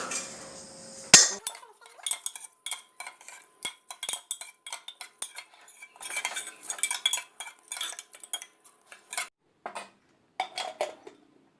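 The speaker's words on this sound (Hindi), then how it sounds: "अभी तो मिक्स कर लेंगे।" Metal spoon scraping and clinking against a cooking pot while chickpea biryani with rice and water is stirred, a steady run of close, irregular rattling strokes after an initial sharp clank.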